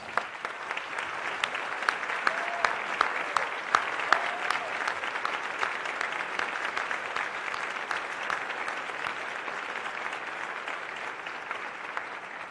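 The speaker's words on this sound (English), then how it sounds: "could we give them a round of applause" A large audience at a formal State Department event gives a sustained round of applause, an even, dense patter of many hands that holds steady and fairly soft at a distance.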